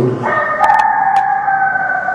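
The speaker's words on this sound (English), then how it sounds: "When the neighborhood cockerel crowed," A neighborhood cockerel lets out one loud, close crow that rises and then holds a long drawn-out note, with a few brief higher chirps in the background.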